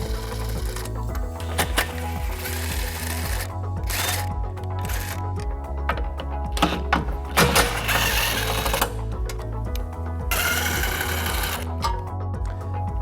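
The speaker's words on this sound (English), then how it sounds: "We're going to remove those using a" A powered tool turns a 13mm socket on the bumper beam bolts of a 2019 Volkswagen Golf SportWagen: close, repeated buzzing whirs in short bursts, with brief pauses and small clicks between runs.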